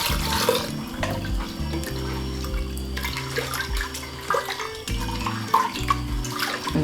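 Water pours into a cooking pot holding a ground spice mixture for thambum hodi curry, a steady close splashing stream that keeps up throughout with small gurgles and spatters.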